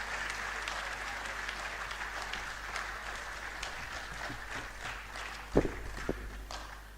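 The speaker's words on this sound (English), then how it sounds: "Keep clapping until he comes for his closing remarks." Scattered audience clapping at a university ceremony for a former Lagos State governor and works minister, a soft, distant wash of hands with a couple of sharper knocks near the end.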